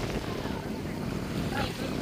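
Wind and waves at Rome Beach in the evening, heard as a loud, continuous rush of wind buffeting the microphone over rolling surf, with a voice faintly audible underneath.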